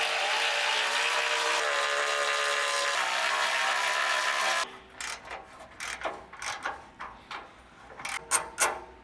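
Skid plate bolts coming off a Toyota 4Runner: a loud continuous whine of a power tool spinning, then a quieter stretch of clicks, ratcheting and clanks of bolts and metal, with no talking.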